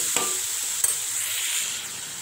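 Tomato pieces fry and sizzle in a pan while being stirred, a steady close hiss with a couple of sharp scraping clinks from the spoon against the pan.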